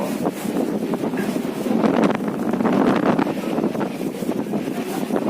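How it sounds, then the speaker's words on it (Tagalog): Strong monsoon wind roaring steadily with a dense hiss of rain at Pasacao Fish Port, Camarines Sur, loud and continuous, swelling slightly in the middle. "Sa sobrang lakas ng hangin,"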